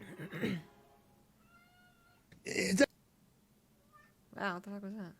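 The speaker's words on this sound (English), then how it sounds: "I don't know if you guys can hear my cat going crazy" A pet house cat meows loudly and agitatedly in several separate bursts, close by, with someone speaking between the cries.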